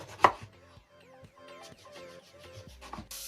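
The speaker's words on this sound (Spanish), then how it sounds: "Y ahora lo que hacemos es cortarla en trozos," Knife chops eggplant into cubes on a cutting board, a quick series of sharp close taps with one loud first strike, no talking.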